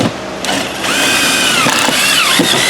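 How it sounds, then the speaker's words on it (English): Ryobi cordless drill driving screws into a motorhome roof during a TPO membrane replacement, loud whirring bursts that rise and fall in pitch across the clip, close by, with no talking. "Once the piece is in place, we execute the screwage."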